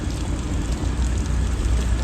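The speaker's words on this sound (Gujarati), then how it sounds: "વરસાદ" Heavy rain falling early in the morning, a dense continuous hiss and patter that stays loud and even from start to end, with no voices over it.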